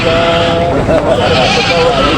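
Wavering bleats of native goats at a goat market rise and fall over steady background noise and nearby chatter, several calls in quick succession.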